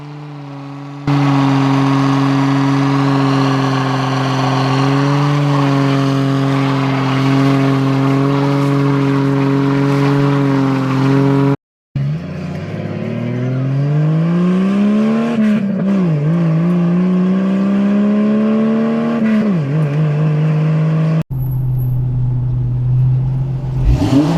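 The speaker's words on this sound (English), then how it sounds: "the sound of these 4-liter engines when they are straight piped or just catless with an aftermarket muffler" Jeep Cherokee XJ with the 4-liter engine, straight piped or catless with an aftermarket muffler: a loud, raspy idle that swells through several revs, cut by brief breaks, with no talk.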